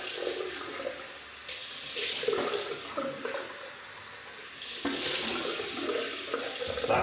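Water runs steadily from a bathroom tap while someone rinses off after a wet shave with a Gillette Slim adjustable safety razor and Derby shaving soap, with splashing surges as hands move under the stream.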